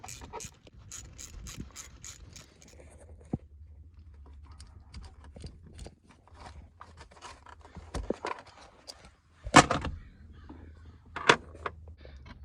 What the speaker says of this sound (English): now let's take these two bolts off. It's going to be a 10mm.